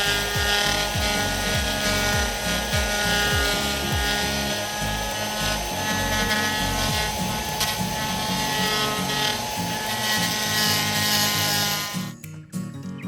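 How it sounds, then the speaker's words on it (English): A porting tool grinds an aluminum FAST LSXR intake manifold with a loud, continuous high whine and rhythmic rasping strokes, close up and alone, stopping abruptly near the end. "let's do a little grinding on this now"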